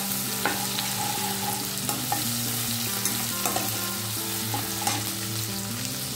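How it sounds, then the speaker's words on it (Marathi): Mustard seeds, turmeric, asafoetida and cumin sautéing in a pan for bhogichi bhaji, giving a continuous close sizzle with soft scraping stir strokes every second or so, no voices. "आता हे सगळं आपल्याला परतून घ्यायचं."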